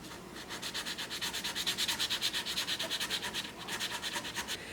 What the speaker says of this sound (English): Just a sanding block is working great.